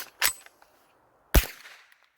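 Two sharp shots from a Bear Creek Arsenal .22 LR rifle upper on a PSA lower firing Federal rounds from CMMG magazines, spaced about a second apart, each loud and close with a short ringing tail.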